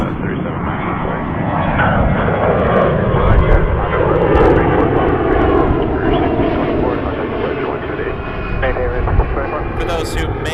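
A fixed-wing airliner takes off from runway 23 at Toronto Pearson Airport with a loud, sustained engine roar that swells and slowly shifts in pitch as it passes, heard without speech.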